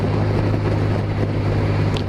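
Strong winter wind batters a heavily faired motorcycle during an orange weather alert in the Landes, producing a steady, roaring rush of wind noise with a low engine drone beneath it and no talking.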